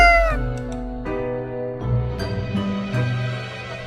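A cat meows in several drawn-out, close, clear calls one after another, with no talking over them.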